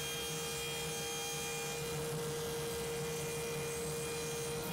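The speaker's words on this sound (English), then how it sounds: "I'm setting up my dado stack with sacrificial fence to cut the exact width of the plywood thickness" A table saw fitted with a dado stack cuts rabbets in plywood against a sacrificial fence, giving a steady motor whine over a continuous broadband cutting rush, fairly faint and unbroken throughout.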